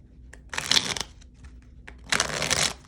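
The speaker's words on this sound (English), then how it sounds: "let's not interrupt my shuffling" Tarot cards shuffled in two brisk bursts, a dense papery riffle near the start and another near the end, with quiet handling and a soft background hum in between.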